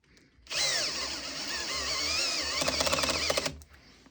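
A Makita 12V drill driver at clutch setting 5 drives a screw with a loud, close whine lasting about three seconds, rising and wavering, then ends in a rapid ratcheting chatter as the clutch slips.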